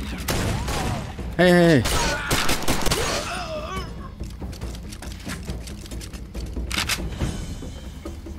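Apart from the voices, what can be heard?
heavy gunfire in video game Far Cry 2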